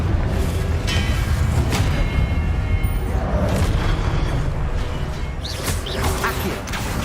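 Fiery Confringo spell blasts in the Hogwarts Legacy game, a dense run of booming, crackling bursts and whooshes over a constant loud game-audio rumble, with several sharper impacts toward the end.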